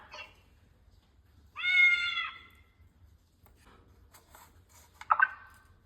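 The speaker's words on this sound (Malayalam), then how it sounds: "Cat." A single electronic cat meow rings out clearly from a small toy speaker, followed by brief faint chirps and a short squeak.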